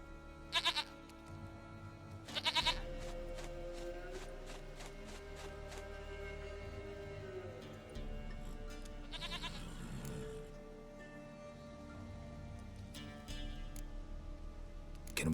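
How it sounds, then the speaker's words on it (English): Goat bleating in The Witcher 3: Wild Hunt, several short bleats spread across the clip over a steady bed of game music and ambience, with no talk. "Goat of mine, dearest, sweetest goat."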